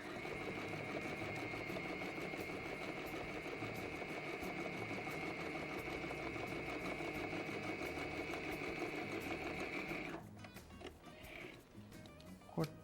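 A sewing machine stitches a kimono with a steady, close mechanical whirr and needle rattle for about ten seconds, then stops, leaving faint handling noises.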